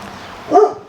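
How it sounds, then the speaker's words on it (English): A mother dog gives one short, sharp bark outdoors, standing out briefly above a low background hum. "That is the mama dog."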